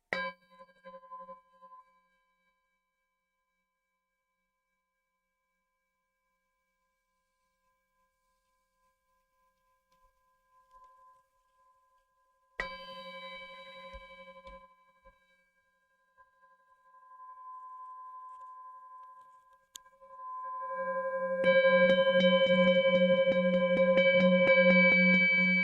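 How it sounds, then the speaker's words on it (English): A meditation bell rings at the end of a talk, with clear, sustained tones that fade slowly. After a quiet pause, further bell strikes sound, ending in a louder, bright ringing. "I'll ring the bell here."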